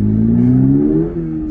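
Toyota GR86 sports car pulling away hard from a standstill at a traffic light, its engine revving up loudly and steadily in rising pitch over about a second and a half, heard close from inside the cabin with no talk.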